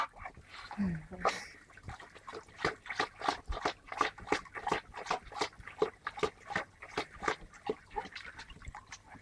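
A dog laps and splashes water in a quick, steady rhythm close by, with a brief voice near the start.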